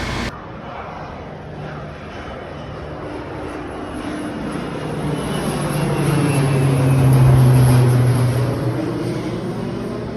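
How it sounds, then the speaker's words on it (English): A crop-spraying propeller airplane drones steadily overhead above a cornfield, its engine growing louder as it passes close by, then easing slightly as it moves on. "Airplane spraying corn."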